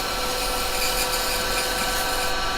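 A wood lathe spins a pine piece during burnishing, giving a steady, close, even whirring hum with broad hiss, continuous and unbroken throughout.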